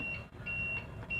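A gas detector alarm on a ship's bridge monitoring display gives a high, thin repeating beep, three pulses at a steady pace over a low rumbling background, fairly quiet.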